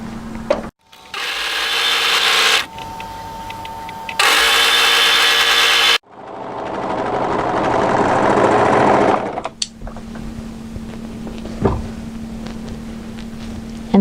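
A sewing machine stitches a sleeve underarm seam in loud close bursts, two strong runs of rapid whirring separated by pauses, then a longer smoother hum and quiet handling noise.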